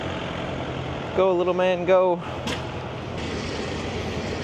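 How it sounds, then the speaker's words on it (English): A small Kubota tractor engine runs at a steady idle at an antique machinery show, a low continuous mechanical drone throughout while a voice briefly calls out over it midway. "A little kubota."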